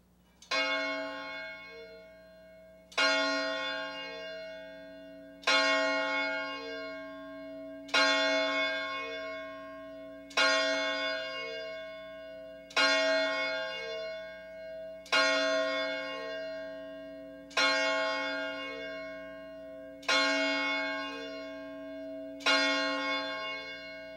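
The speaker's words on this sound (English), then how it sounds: "hear the tolling of the hour by the historic church bell that was cast in 1851" Historic church bell cast in 1851 tolls the hour, ringing nine slow, evenly spaced strikes about three seconds apart, each loud and bright with a long humming decay, heard alone without talk.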